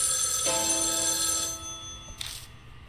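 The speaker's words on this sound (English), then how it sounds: "Suddenly, the phone from the next room rings." A telephone rings from the next room in the video game Spirit Hunter: NG, with a steady electronic trill that holds for about a second and a half and then fades, followed by a faint brief echo.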